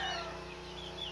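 A hen gives faint clucking sounds for about a second against a steady low background hum.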